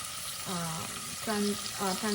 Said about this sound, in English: Just wait until the onion get cooked up a little bit